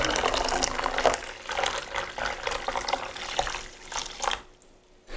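Water pours steadily into a container while making cold brew coffee, a continuous close splashing fill with small surges that tapers off near the end before a brief final splash.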